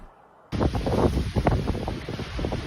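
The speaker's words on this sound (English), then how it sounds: "And do you hear that wind?" Strong gusting wind roars at the Solitude lift of Palisades Tahoe ski resort in California, starting abruptly and buffeting the microphone in loud, continuous bursts.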